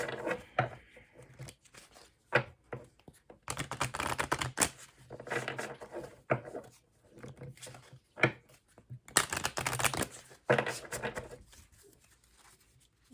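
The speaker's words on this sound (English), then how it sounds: "I'm going to shuffle my Santa Muerte deck" A tarot deck is shuffled close by in bursts of riffling and slapping, separated by brief quiet pauses. The bursts come unevenly.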